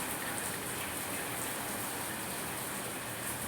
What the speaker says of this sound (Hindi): बारिश की जोर से लग पड़ी आज